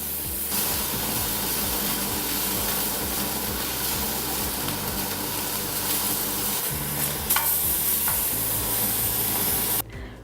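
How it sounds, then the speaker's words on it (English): Steaks searing in a touch of oil in a hot pan, a steady loud sizzle and hiss running throughout, with a brief crackling burst near the end, close and with no talk. "So now we're gonna sear our steaks."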